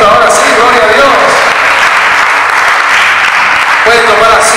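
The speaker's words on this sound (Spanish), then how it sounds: "Dale un aplauso a Cristo" A church congregation claps together during a worship service, a dense wash of applause that fills the whole clip, loud and close, briefly easing in the middle before swelling again.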